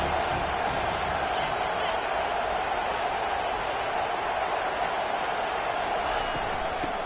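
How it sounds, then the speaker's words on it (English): A steady, loud crowd roar in a college football video game on third down, a continuous wash of stadium noise holding throughout with no distinct cheers standing out. "Decibels rising as the crowd gets behind this defense on third down."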